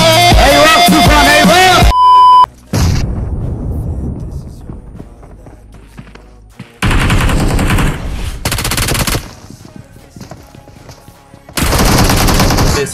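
Automatic gunfire from PUBG Mobile comes in loud bursts, one at the start and more at about 7, 8.5 and 12 seconds, separated by quieter gameplay sounds and overlapping talk.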